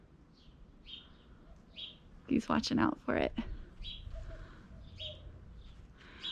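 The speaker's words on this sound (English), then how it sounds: "the chickens made that like dinosaur noise" Chickens give a rough, rolling alarm call at a hawk flying overhead, a burst of loud raspy trills near the middle of the clip, with someone talking before and after and faint birdsong in the background.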